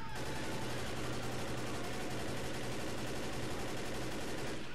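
Continuous rapid gunfire while shooting at a witch in Left 4 Dead, a steady dense stream of shots at moderate level with no pause.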